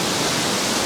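A waterfall among mossy rocks in Blue Mountains National Park near Sydney roars as a steady, loud, broadband wash of falling water, close and unbroken.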